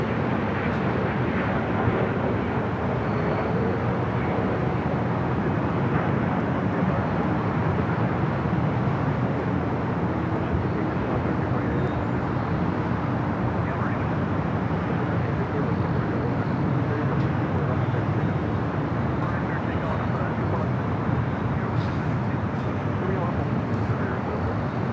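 Airliners taxiing and landing at Los Angeles International Airport, a steady broad roar of distant jet engines and wind that holds for the whole stretch, with a voice talking over it throughout.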